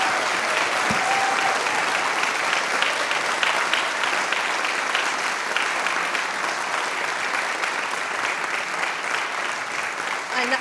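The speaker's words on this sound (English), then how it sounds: "I think we all owe him a big round of applause" Sustained audience applause for a Troon Civic Award nominee at a 1st Troon Boys' Brigade Pipe Band event, a dense and even wash of many hands clapping for about ten seconds, without talk.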